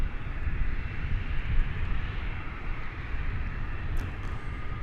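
A new passenger airplane's engines at DFW airport, a steady, moderately loud jet roar and whine heard from aboard, continuous and without speech.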